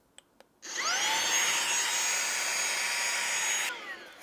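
A Minthouz cordless car vacuum cleaner rated at 17000pa switches on and runs with a steady high-pitched whine for about three seconds, then cuts off, loud and close with no talking.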